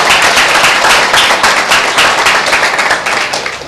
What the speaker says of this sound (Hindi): एक जोरदार ताली देते हैं परमेश्वर की महिमा के लिए।